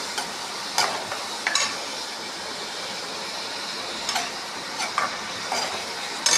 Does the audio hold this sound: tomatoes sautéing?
yes